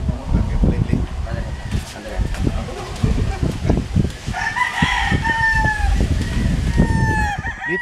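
Grey gamefowl at the Koja Game Farm: a rooster crows loudly twice in the second half, long drawn-out calls, with hens clucking nearby and people talking throughout.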